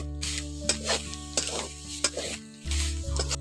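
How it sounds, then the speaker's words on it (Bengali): Grated coconut and jaggery stirred together in a pan for puli pitha, a close spoon scraping in repeated strokes over a low steady cooking hiss, with a brief quiet gap near the end. "এবার এর মধ্যে দিয়ে দিচ্ছি গুড়টা দিয়ে ভালো করে মিশিয়ে নেব।"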